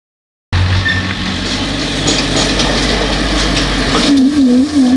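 A tractor brakes hard to a stop using only its own brakes, a loud, steady engine and rolling-tire rumble running throughout after a brief silent start, with a rising whine near the end.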